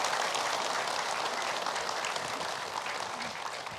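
A studio audience at an Islamic religious TV program claps in a continuous, fairly distant wash of applause that fades slightly toward the end, with no voices over it.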